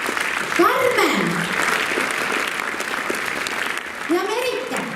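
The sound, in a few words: audience applause at a dance show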